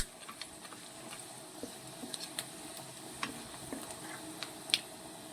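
Urad dal fries faintly in a pan for tomato rice, with a soft sizzle and scattered light ticks and scrapes as a spoon stirs it.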